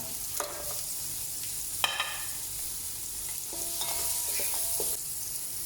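Onion frying in a pan for beef kabsa gives a steady, close hiss and sizzle throughout, with a few scrapes and clinks of a utensil stirring. No one speaks.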